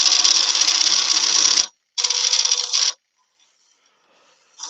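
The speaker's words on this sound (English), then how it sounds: "So finish that off with a spindle gouge." Spindle gouge cutting wood on a lathe in two loud, sustained rasping bursts separated by a brief pause, with another burst starting at the end.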